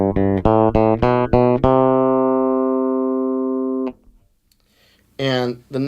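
Epiphone Toby Deluxe V electric bass on the bridge pickup alone, tight and bright: a quick run of loud plucked notes, then a long ringing note that fades before a voice starts talking.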